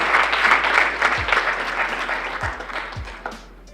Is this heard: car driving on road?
no